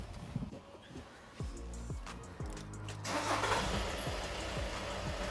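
A 2016 Audi A3 with a manual gearbox, fresh from an oil change, cranks over with a rapid rhythmic starter churn, then catches and settles into a steady idle, heard up close without voices.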